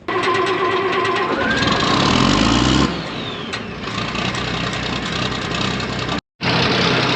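A Farmall 706 tractor engine on a farm fires up and runs with a loud, steady mechanical roar, briefly rising in pitch, then settling into a rough idle that cuts out for a moment near the end.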